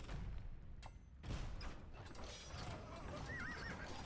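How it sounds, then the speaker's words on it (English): A horse neighs briefly in the Age of Empires strategy video game, a high wavering whinny amid clip-clop hooves, creaking mechanisms and busy battle noise. "The horse is kind of griefing DauT there"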